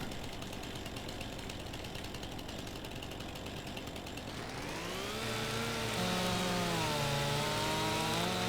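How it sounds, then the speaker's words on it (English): A chainsaw cuts through an oak tree in Farming Simulator 25: a steady, loud buzzing whine for several seconds, then the engine pitch swoops and shifts as the blade finishes the cut and a new tone takes over. "And my chainsaw has made it through."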